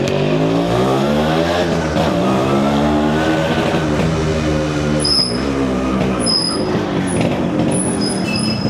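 A Yamaha RX100 two-stroke motorcycle idling and revving, a loud, close, buzzing engine drone with rising and falling pitch and some high whining tones over it.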